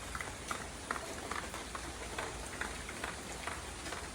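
Steady rain falling on surfaces in a village yard by a pigeon house, a soft constant hiss with scattered drop taps, fairly faint and distant.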